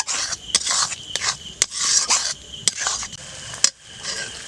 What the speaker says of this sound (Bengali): এটাকে ভালো করে নেড়ে চেড়ে নেব।